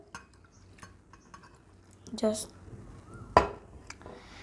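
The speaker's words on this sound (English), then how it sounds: "Then you have to mix it with a spoon." A spoon stirs lemon juice and water in a bowl, making a few faint clinks and scrapes against the sides along with two brief louder taps, while someone talks quietly nearby.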